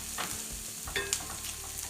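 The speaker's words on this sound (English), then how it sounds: "our onions are just about ready for the mushrooms to go in the pan" Chopped onions sizzle steadily in a frying pan, with a few soft stirring scrapes and small clinks over the continuous crackle.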